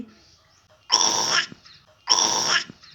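A voices two harsh, breathy animal-like cries, each about half a second long, imitating a monkey, separated by a short pause.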